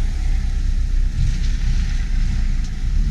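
A Lada Zhiguli with a clogged exhaust runs nearby, its engine a steady, deep, muffled rumble that holds throughout with wind noise on the microphone and no talk.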